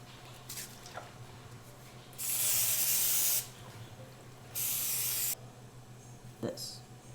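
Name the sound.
cooking spray being sprayed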